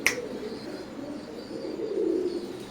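Teddy pigeons of an Oman bloodline coo in a low, steady murmur that swells slightly toward the end, close by with no talking, after a brief sharp click at the start.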